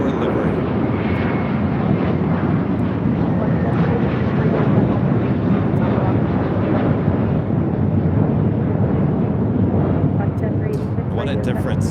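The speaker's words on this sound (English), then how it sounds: "That one taken off, heading to JFK, JetBlue Airways Flight 724, and then A321." A JetBlue Airways A321 jet takes off at LAX with a loud, continuous broadband engine roar that holds steady throughout.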